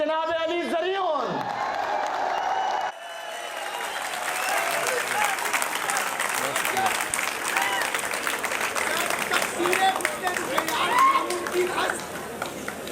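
Audience applause at a mushaira in Jahanian for the poet Ali Zaryoun, full clapping mixed with crowd chatter and cheering that rises after a brief spoken introduction and carries on for many seconds.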